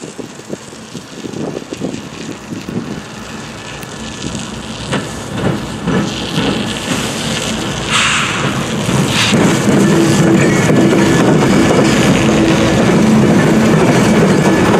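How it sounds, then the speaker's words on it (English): A southbound CSX coal train rolling past in sleet, a loud continuous rumble and roar that swells and holds steady as the cars pass close by, with wheel noise and wet weather hiss. "As the train rolls by, watch the front wheels of the locomotive."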